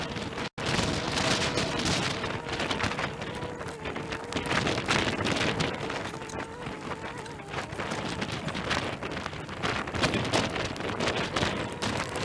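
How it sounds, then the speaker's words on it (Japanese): Heavy rain falls outdoors on rural land being cleared of piled rubbish with a dump truck, a dense, steady hiss of drops lasting throughout with no talking. "かなり雨が強くなりました。"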